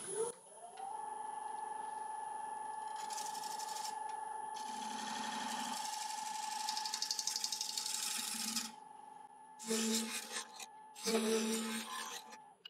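A wood scraper works a live-edge winged laburnum bowl spinning on a woodturning lathe: a steady motor hum under a rasping, rubbing scrape that runs for several seconds, then breaks into short separate bursts.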